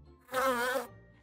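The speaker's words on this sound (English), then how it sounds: "a bee goes buzz, buzz" A bee buzzing: a single steady, loud drone lasting about half a second, rising in and fading out, alone with no talk.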